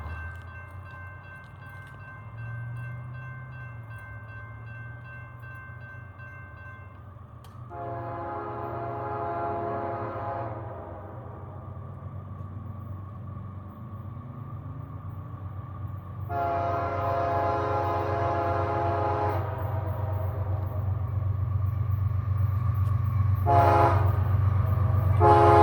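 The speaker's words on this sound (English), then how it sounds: "Stacks on the CSX Chattanooga Subdivision." A CSX double-stack container freight train rolls past on the Chattanooga Subdivision near Stevenson, Alabama, with a steady loud rumble of wheels and cars, while its multi-tone horn blasts several times, near and strong, without talk.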